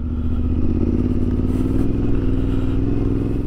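Motorcycle engine droning steadily with a throaty, pulsing exhaust note as the bike rides up close along a slippery road, constant and fairly loud.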